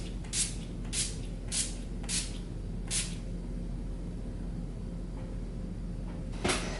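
Makeup setting spray hisses out in about five quick, short bursts in a regular rhythm, then pauses before one more spritz near the end, close and fairly soft in a quiet room.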